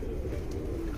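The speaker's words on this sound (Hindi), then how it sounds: "देखो कबूतर खोल रखे हैं सारे के सारे बाहर" Domestic pigeons let out of their coop outdoors give soft, low cooing, faint and steady against a quiet background hum.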